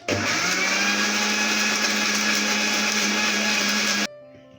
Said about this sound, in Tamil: இப்போ இதை ஒரு ஸ்மூத் பியூரியாக அரைச்சி எடுத்துடலாம்